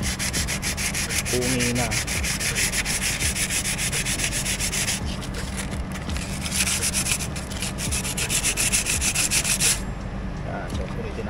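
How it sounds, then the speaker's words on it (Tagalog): Bicycle brake pad from a 2022 Trek Marlin 6 being sanded with sandpaper, a steady close scratchy rubbing that runs continuously with a brief spoken word over it. "lihain nyo lang"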